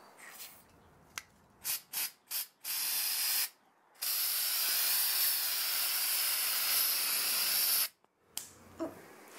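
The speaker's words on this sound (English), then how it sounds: "this spray paint that I have sprays pretty hard" A can of spray paint coating a Barbie doll, heard up close: several short hissing bursts, then one long steady spray and a final brief puff, with no talking.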